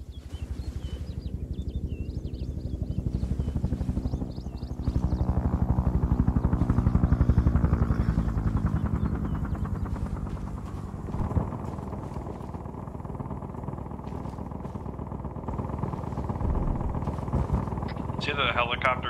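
Helicopter flying in the Vietnam-era combat video game Arma 3, a steady rotor and engine drone that swells and holds loud through the middle, with someone talking over it and brief gunfire-like bursts near the end.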